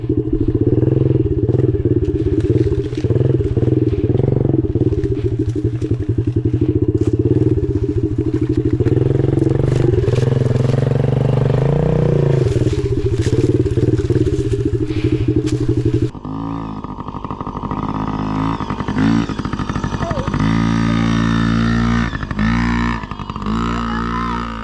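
A Yamaha PW50 small dirt bike engine revs steadily and loudly close by, a buzzy two-stroke drone that changes pitch partway through and is joined by clatter and thumps.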